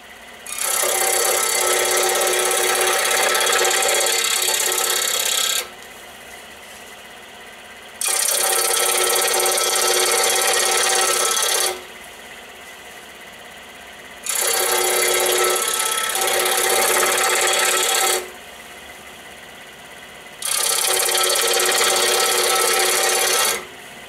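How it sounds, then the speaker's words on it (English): A power tool cuts walnut splines for a wooden face frame in four loud, raspy passes of several seconds each, separated by quieter gaps of low motor hum. "So I'm going to go ahead now and cut some walnut splines, and we're going to glue them into this face frame."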